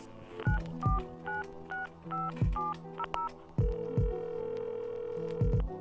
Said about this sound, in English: Maybe if I dial 1-800-HEAVEN.